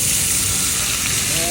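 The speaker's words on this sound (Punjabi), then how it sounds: "ਇਹਦੇ ਉੱਤੇ ਅਸੀਂ ਫਿਰ ਲਾਉਂਦੇ ਆ ਦੇਸੀ ਘਿਓ ਦਾ ਤੜਕਾ" Desi ghee tadka poured over chickpeas, setting off a loud, steady sizzle with crackling and spitting that fills the short moment at close range, no talking over it.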